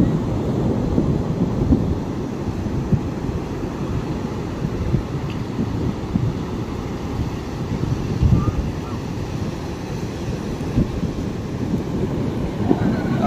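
Sea waves surge and wash onto a beach in a steady, loud low rumble with gusty wind noise over the microphone, the surf swelling and breaking continuously without any talk.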